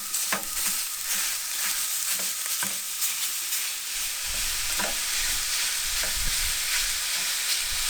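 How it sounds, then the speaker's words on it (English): Ground beef, about a pound, browns in a skillet during camp cooking, with a loud continuous sizzle and crackle and occasional scraping as the meat is broken up, close and with no talk. "this is about 1 pound of ground beef that we're gonna add to the skillet and cook till browned."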